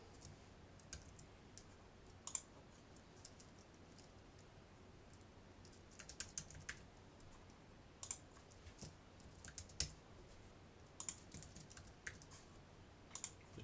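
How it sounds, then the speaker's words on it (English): Someone types a password on a computer keyboard in a quiet room: scattered light clicks come in short irregular bursts, soft and near. "You type in your password and repeat it."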